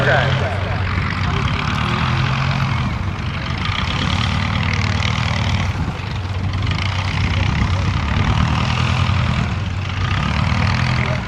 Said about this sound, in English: Gypsy Moth, here reenacting the arrival at Stag Lane Aerodrome of Hubert Broad after a 24-hour Gypsy Moth endurance flight